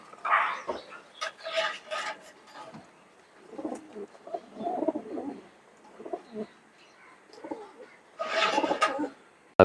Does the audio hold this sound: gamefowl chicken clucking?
no